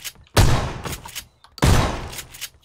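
Pistol fire in the video game PlayerUnknown's Battlegrounds: two loud, close shots about a second apart, each ringing out with a short echoing tail.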